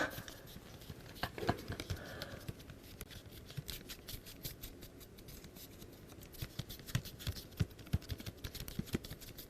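Rapid, crisp scissor snips repeat closely in irregular bursts, with a brief faint rustle early on.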